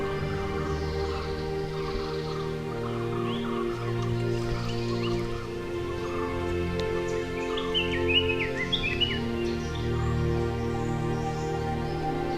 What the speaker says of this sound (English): Birds are active in search of a breakfast.